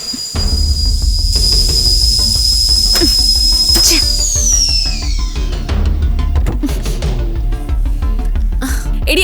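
A pressure cooker whistle gives a steady, high steam tone that bends and fades midway, over a loud, busy domestic background with clatter and movement.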